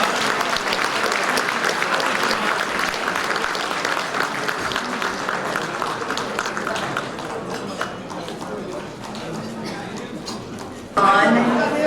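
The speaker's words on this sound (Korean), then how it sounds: "네, 여러분 큰 박수 부탁드립니다." Audience at an international friendship gathering gives sustained applause that gradually thins and fades, with crowd chatter underneath and a sudden louder burst of sound near the end.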